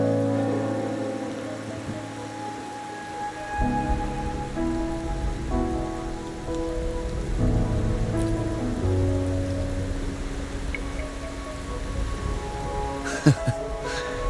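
Rain falling in the Wuthering Waves video game, a steady patter of rain on surfaces that continues throughout under soft background music, with a brief sharp knock near the end.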